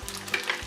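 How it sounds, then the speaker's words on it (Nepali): Chili momo dumplings fry in a pan, giving a short, soft sizzle and crackle of hot oil with a few small pops. No one speaks. "मोमो फ्राई भइरहेको छ र यसलाई अब पल्टाइदिउँ।"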